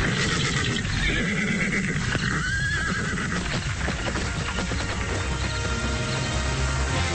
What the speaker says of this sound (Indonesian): Suara derap kuda yang semula menghilang terdengar lagi, meski tidak berderap kencang, semakin lama semakin dekat.